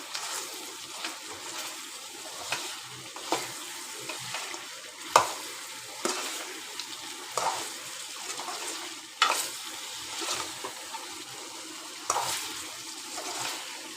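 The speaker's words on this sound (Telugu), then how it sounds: "10 నిమిషాల దాకా ఫ్రై అవ్వాలి. Chicken fry" Chicken fry cooks in a pan with a quiet, continuous sizzle. Periodic louder swells of stirring and scraping come every second or so, and nobody talks over it.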